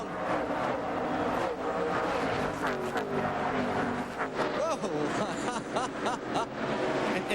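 NASCAR Winston Cup stock cars roaring past at Darlington Raceway during the Southern 500, a loud continuous engine drone with rising and falling pitches as cars sweep by, under a commentator's voice.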